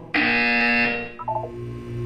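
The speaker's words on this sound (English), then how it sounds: "When you hear the buzzer, look down at the floor." A loud electronic buzzer in the Portal 2 video game sounds as one sustained harsh tone lasting about a second, then drops into a lower humming tone with a short burst of pulses.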